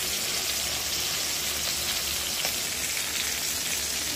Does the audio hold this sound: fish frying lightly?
yes